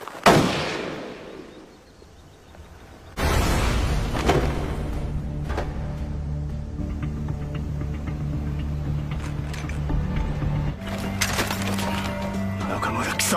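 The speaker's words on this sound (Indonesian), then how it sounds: "Ken pun langsung berusaha melindungi mereka dari tembakan Nakamura" Gunfire in a Korean war film: a sharp close shot opens, then a dense rolling rumble of battle with scattered cracks and bursts, ending in louder repeated shots.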